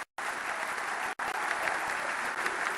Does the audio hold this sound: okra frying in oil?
no